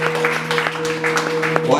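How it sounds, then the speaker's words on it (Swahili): A church congregation claps for Agnes during a service, with steady, dense applause running throughout over a constant low hum. "Pigeni Agnes makofi"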